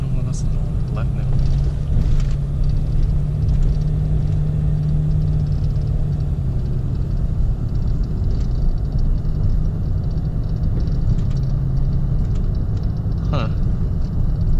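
A Ram pickup truck on the move, its steady low engine and road rumble running continuously and fairly loud, with occasional brief knocks and rattles over the drive.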